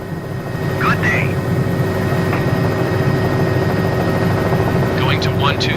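A helicopter in a flight simulator hums steadily, its engine and rotor a constant low drone with a faint whine, loud and unbroken throughout while someone talks over it in radio-style chatter.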